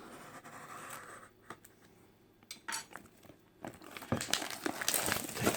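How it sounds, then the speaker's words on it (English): Plastic wrap crinkles and crackles as it is peeled off the packaging of a new topaz gold product, in intermittent close bursts that swell louder toward the end. "Take the plastic off here."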